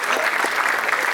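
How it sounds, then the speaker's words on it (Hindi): An audience at a film trailer launch event claps loudly in a dense, continuous burst of applause. "एक बार सबके लिए जोरदार तालियां हो जाएं।"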